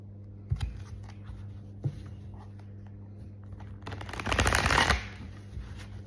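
Tarot cards are handled and shuffled nearby: a few soft taps and flicks, then one dense riffling burst lasting about a second, followed by quiet card handling.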